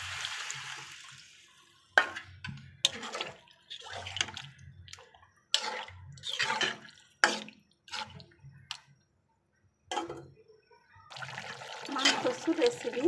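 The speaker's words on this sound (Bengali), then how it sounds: "এখন ঝোল দিয়ে দেব।" Broth poured into a pot of taro root and chicken curry, a splashing, trickling stream of liquid in several bursts, with someone talking between pours.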